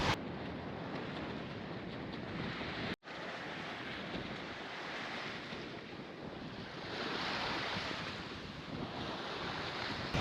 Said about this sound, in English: I actually don't think I have ever sailed here in Kattegat with the waves this small ever before.